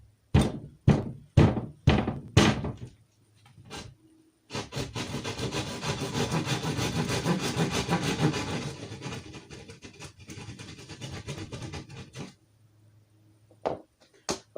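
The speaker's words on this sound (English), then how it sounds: "in order to break drywall, you want to cut it on one side, which is usually your outward facing side" Several sharp knocks come first, then about eight seconds of continuous rough scraping as drywall is cut by hand, followed by quiet and a couple of final taps, with no talking.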